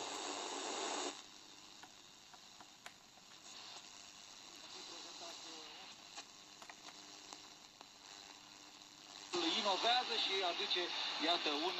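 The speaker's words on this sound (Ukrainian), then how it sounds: "Шипіння стало набагато більш гучним, я вже його стишив трошки." Steady static hiss comes from an old Soviet-era Svirel-406 radio made in Belarus. The hiss is loud at the start, drops lower in the middle and swells again at the end, with someone talking over it.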